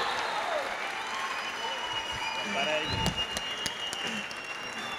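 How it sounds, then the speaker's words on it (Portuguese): Audience applause for Paco, the world president of Futura, at the opening of Campus Party Brasil, a broad, fairly distant wash of clapping that holds steady throughout with a few sharper claps near the middle. "Entonces, palmas para Paco aquí."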